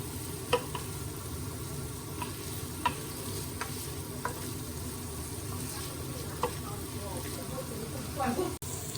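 Carbonara sizzling in a frying pan under a steady hiss, with occasional light clicks of a utensil stirring, while a person talks over it.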